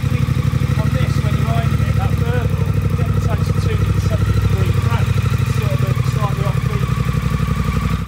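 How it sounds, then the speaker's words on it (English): A Triumph Speed Twin 1200 with a 270 degree crank runs close by with a loud, steady, throbbing exhaust note and even pulses, plus some mechanical clatter and a few faint higher chirps over the top. "the sound of it and the exhaust note when you're going along. The 270 degree crank on these gives a really"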